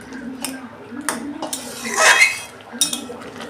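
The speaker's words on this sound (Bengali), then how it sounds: "দেখুন বন্ধুরা, আমি ঢাকনা খুলছি।" Lid lifted off a cooking pot of ghugni made with Chandramukhi potatoes, a few metallic clinks and scrapes of pot and lid with a brief louder rattle midway, close by in a quiet kitchen.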